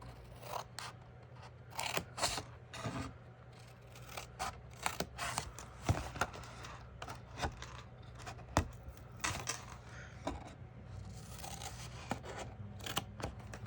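Repeated sharp snips of scissors cutting through material, irregular in rhythm, close and fairly crisp over a low steady hum.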